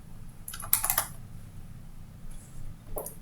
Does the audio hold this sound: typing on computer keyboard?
yes